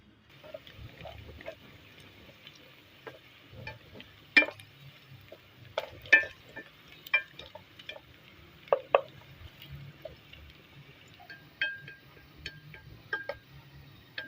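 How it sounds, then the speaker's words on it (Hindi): Onions fry and brown in a pan for moong dal, with a low steady sizzle broken by scattered sharp pops and spoon scrapes as they are stirred, close and moderately loud. "प्याज को थोड़ा सा ब्राउन करेंगे और फिर इसके अंदर चीज़ें ऐड करेंगे सारी।"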